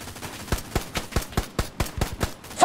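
Machine gun fire in the World War II shooter Hell Let Loose, a rapid, evenly spaced burst of about a dozen sharp shots in close succession, loud and unaccompanied by talk.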